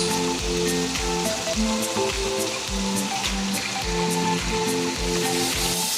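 Meat sautéing in hot oil for a Bengali home-style curry, a steady dense sizzle and crackle throughout, close and loud, with faint clinks and scraping under it.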